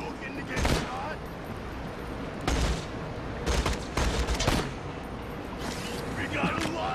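Gunfire in Borderlands 2, heard as several sharp separate shots and short bursts spread across a steady noisy game background, with some speech in between.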